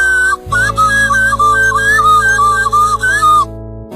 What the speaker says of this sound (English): A series of whistles also conveyed information and alerted the cattle to dangers ahead.